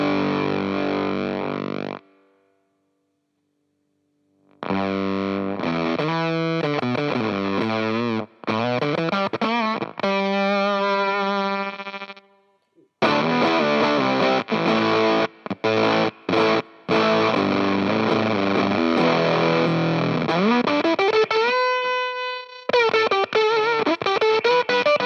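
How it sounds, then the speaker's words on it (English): UnderFluked FuZR fuzz pedal on guitar, giving a sputtery, gated fuzz: bursts of distorted notes and chords that choke off abruptly, with a silent gap early on and choppy dropouts throughout, loud and close with no talk. "Starting to get that sputtery kind of gated fuzz"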